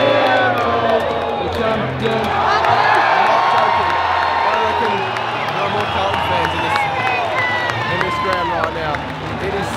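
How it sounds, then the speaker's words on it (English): Large AFL preliminary final crowd between Brisbane and Carlton, a loud sustained roar of booing and jeering that fills the stadium throughout, with voices rising and falling in the mass. "They're booing Brisbane."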